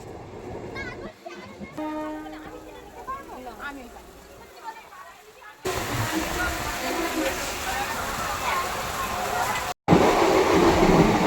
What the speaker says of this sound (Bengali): এই তো আমার ট্রেনও ঢুকে গেছে, তো চলো ট্রেনে উঠে পড়ি